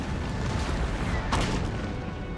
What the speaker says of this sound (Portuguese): Esses canhões de 8 acertam mais que os de 6, cara